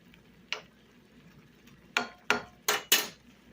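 Utensil stirring gravy in a pot: a few faint metallic clinks and scrapes, one early tap and then four quick ones in a row, against a quiet kitchen background.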